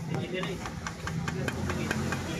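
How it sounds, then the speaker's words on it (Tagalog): A motorcycle engine running with a loud mechanical rattle before an overhaul, clicking irregularly under a steady low hum and heard up close, with talk over it. "Ang lakas ng kalog mga sir."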